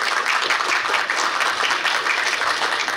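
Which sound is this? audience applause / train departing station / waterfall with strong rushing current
audience applause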